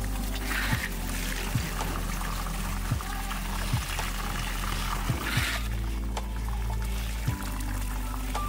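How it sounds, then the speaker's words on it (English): Used acid is poured out during e-waste gold extraction, a steady liquid pour running continuously over a low background hum with a few faint clicks. "We'll pour out the used acid and add a new batch."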